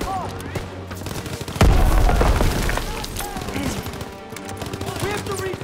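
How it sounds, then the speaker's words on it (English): Grenade explosion in Call of Duty WWII: one loud, close boom bursts out partway through and rumbles away, with gunfire crackling around it and game voices calling out. "Lob it a grenade!"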